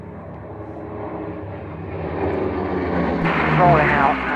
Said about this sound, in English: So it's a very small aircraft.